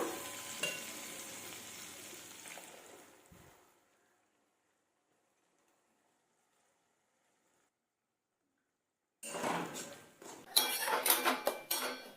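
Ginger-garlic paste and tomato paste are stirred in a pan for an Indian jackfruit curry. A faint scraping sizzle fades into silence, then a spoon clatters and scrapes loudly against the pan in quick, uneven strokes.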